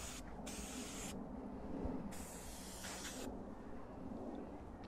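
Aerosol cleaner sprayed onto a car in bursts, with three loud hissing sprays, long and close, over a constant background hum and no talking.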